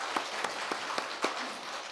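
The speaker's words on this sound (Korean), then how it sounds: "크게 영광의 박수를 돌리겠습니다." A Sunday worship congregation claps loudly in praise, with a steady crowd of applause punctuated by several sharp, evenly spaced louder claps that stand out.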